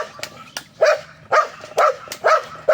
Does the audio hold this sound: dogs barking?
yes